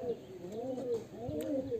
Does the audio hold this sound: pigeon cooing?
yes